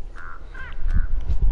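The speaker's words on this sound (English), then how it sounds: "Damn, I got the crow on me." Crow cawing in a video game: a few harsh, nasal caws in quick succession, close and clear, with low thumping game noise underneath and no talk.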